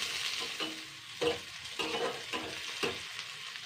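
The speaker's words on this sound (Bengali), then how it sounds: "সুন্দর করে ভেজে নিতে হবে, এরকম লাল লাল করে।" Chopped onions fry in oil in a pan for a fish oil curry, with a soft continuous sizzle and a rhythmic series of scraping strokes from a spatula stirring, heard up close and without talk.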